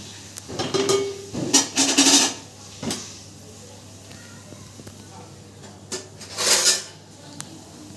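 Spoon clinking against a pot while fish curry is cooked, with several sharp metallic clatters and scrapes scattered over about eight seconds, close and fairly loud, separated by quieter gaps.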